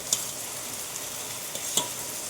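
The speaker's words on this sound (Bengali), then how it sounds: "এখন এটা আমি নেড়ে চেড়ে নেব। এগুলোকে এখন হালকা করে ভেজে নিতে হবে।" Chopped onion and tomato fry in a pan as a spatula stirs them, a soft, steady sizzle broken by a few sharp scraping clicks, fairly quiet with no talking.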